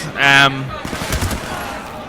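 Bursts of AK rifle fire in a team-based first-person shooter match, a loud rattling volley near the start followed by quieter, scattered shots and game noise.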